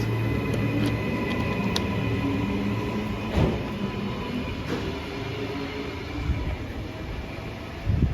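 An NGR commuter train departs Banyo station, rumbling steadily nearby with a low continuous drone and occasional clanks and squeals as cars roll along the platform.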